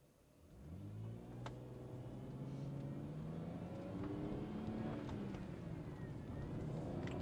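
A BMW 135i E82 accelerates hard up a highway on-ramp, its engine note rising steadily through the gears from inside the cabin, a loud continuous climbing drone with no talk.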